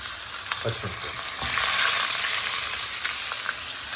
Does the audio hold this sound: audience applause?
no